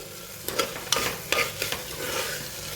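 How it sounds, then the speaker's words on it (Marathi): A spatula scrapes and stirs dal and rice in hot tempering in a pan, with a steady sizzle and a few sharp clinks of utensil against metal. "हे मी परतून घेते आहे"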